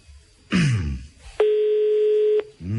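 A single long ringback tone on an Italian phone line while a call is placed, a steady beep of about a second, with short bursts of talk just before and after it.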